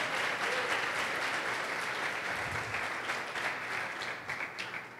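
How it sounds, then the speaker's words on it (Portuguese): A church congregation applauds in a steady, dense wash of clapping, fairly distant and sustained, thinning slightly toward the end. "Pode aplaudir o Senhor."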